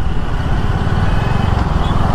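A motorcycle cruises along the Dwarka Expressway at night with a steady, close engine drone and constant road and wind rush, unbroken for the whole stretch.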